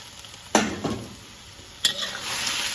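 Fried sea bass and celery being stir-fried together in a pan, with a faint steady sizzle and two sharp scraping strokes of a utensil against the pan.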